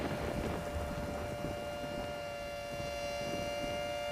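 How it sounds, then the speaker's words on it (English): Tornado sirens wail steadily in the Rec Room game The Supercell, a continuous droning tone heard alone under wind-like noise. "sirens are going off like crazy"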